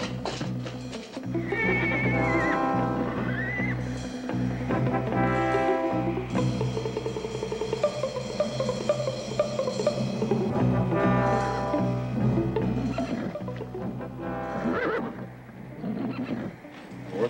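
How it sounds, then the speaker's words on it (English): Spooked horses neighing and whinnying loudly in an Old West setting, several shrill cries overlapping with some hoof clopping and a low rumble underneath. "Sounds like something spooking the horses."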